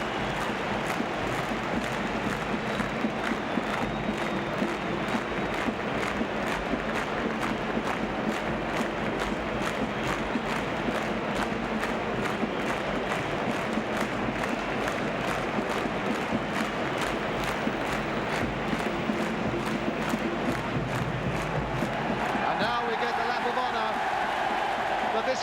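Swindon Town supporters roar after their side's 1969 League Cup Final win over Arsenal: a dense, continuous wall of stadium crowd noise, loud and sustained throughout, with a commentator talking over it.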